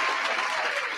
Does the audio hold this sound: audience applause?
yes